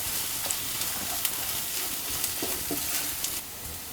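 Fish masala frying in a pan, a steady close sizzle with small crackles and pops scattered over a few seconds.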